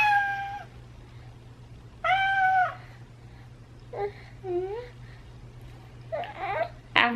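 A house cat meows repeatedly, several drawn-out close cries in an uneven rhythm with shorter chirping calls near the end, heard in a quiet room over a faint hum.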